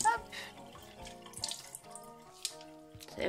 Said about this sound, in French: Sous le robinet, vous venez rincer tout ça.